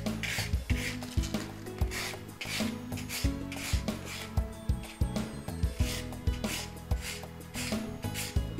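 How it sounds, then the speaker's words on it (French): Nail buffer block lightly mattifying a fingernail before gel modelling, close, rhythmic scratchy rasping strokes repeating about twice per second. "Préparation de l'ongle, on va d'abord matifier légèrement avec un bloc polissoir."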